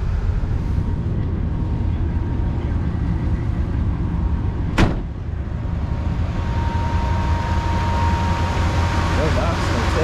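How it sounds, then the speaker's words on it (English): A 1954 Cadillac Fleetwood idles with a steady low engine drone, and its air-conditioning compressor engages once about midway with a single sharp click-like transient before the running sound continues. "You can hear the compressor kick on there."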